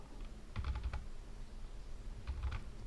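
Two quick bursts of soft, close clicking on a computer keyboard, a short word typed and then a few more keystrokes, faint and alone.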